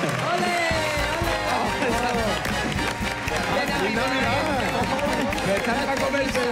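Studio audience applause on a Spanish television comedy show, dense and continuous, with crowd chatter and cheering mixed in throughout.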